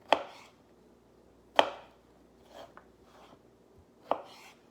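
Knife chopping squash and carrot into casserole pieces, four sharp separate cuts against a board spaced about a second apart, close and fairly quiet with no talk.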